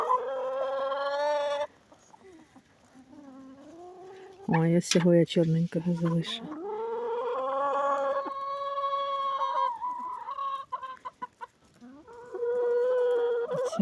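Chickens cluck nearby with loud, drawn-out calls and sharp bursts of squawking, while someone talks briefly between them.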